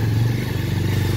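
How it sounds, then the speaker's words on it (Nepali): Motorcycle ridden over a rough, bad road, its engine a loud, close, steady low drone with rhythmic pulsing and some rattling, no voices. "यस्तो बाटो कुदाउनुपर्छ बाइक चाहिँ"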